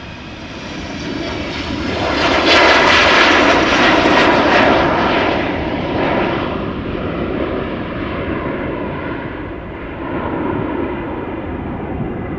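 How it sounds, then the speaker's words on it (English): Embraer 190 airliner passing overhead near Amsterdam Schiphol Airport, a loud broad engine roar that swells to a peak early and then slowly fades as the jet moves away, with no talk. "Now another Embraer 190 is coming over here."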